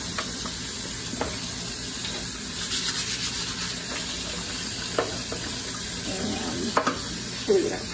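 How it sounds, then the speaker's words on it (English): Tap water runs into a sink while vegetables and parsley are rinsed under it, a steady close splashing stream with occasional clatters and knocks of handling. "Running water."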